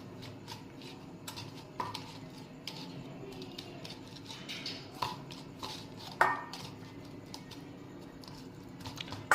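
Chicken pakora pieces are mixed with spice marinade in a bowl, giving soft wet squelching and rubbing with occasional clinks against the bowl, quiet and close.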